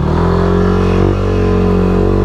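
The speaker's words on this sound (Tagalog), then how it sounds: "Test na lang natin ng maayos yung motor." A Yamaha Aerox scooter with a 183cc engine and new parts idles loudly and steadily up close, its pitch shifting briefly midway as the throttle is blipped, with no talking over it.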